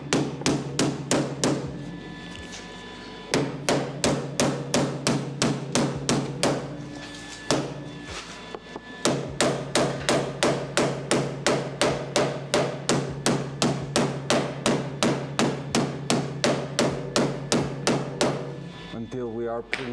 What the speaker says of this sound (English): Now with the hammer, we're gonna keep smashing.